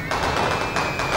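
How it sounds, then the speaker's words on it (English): Fireworks being set off in a film scene, a dense continuous crackle and rumble of rapid bursts, loud and close, filling the whole moment without voices. "They're setting off fireworks to scare any wandering ghosts away."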